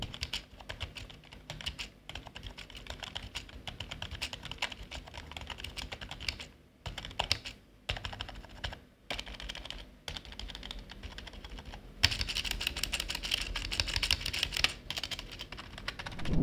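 Quiet, soft-clicking keystrokes on a Zifriend BM98 membrane keyboard pour out in rapid continuous bursts with short pauses, growing a bit louder and busier toward the end.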